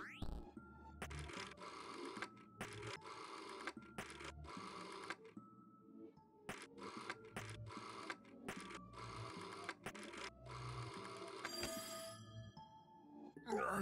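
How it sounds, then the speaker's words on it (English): An old telephone rings in the video game There is no game, with loud bursts of rapid mechanical bell ringing separated by short pauses, repeating many times, and a few brief sounds between the rings. "Pick up the phone, dammit!"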